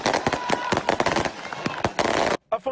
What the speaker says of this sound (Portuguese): houve queima de fogos.